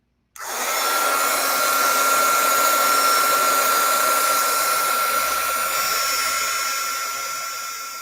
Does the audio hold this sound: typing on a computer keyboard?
no